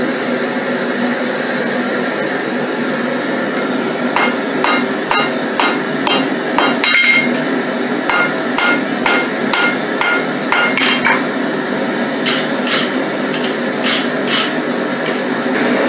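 Rapid, ringing hammer blows on steel during forge welding of Damascus steel come in quick runs, sharp metallic strikes over a constant roaring hum of machinery or a forge blower.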